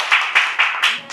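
A small group claps to welcome a new manager at a dental clinic gathering, with about five quick, crisp bursts of close applause in a rapid rhythm.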